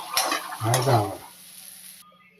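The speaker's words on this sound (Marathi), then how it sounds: "सकाळी टिफिनला जर भाजी वेळेला असं तेंडली थोडी फ्राय करायला ठेवायची." Tendli (ivy gourd) frying in oil in a pan, a soft broadband sizzle with a brief stirring scrape near the start, fading out after about two seconds.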